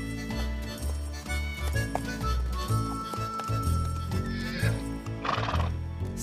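A horse clip-clops steadily with a ringing clink of tack while whinnying and neighing loudly several times, close and fairly prominent.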